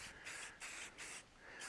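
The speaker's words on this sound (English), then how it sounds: "just kind of lightly spraying away all those, keeping my can, about 12 inches away or so roughly." Spray paint can hissing onto an AR rifle from about a foot away, in four steady bursts of bright, airy spray separated by short pauses.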